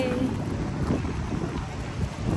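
Cold wind gusts and buffets against the microphone on a drive in Sarnia, Canada, a steady low rumble under faint voices.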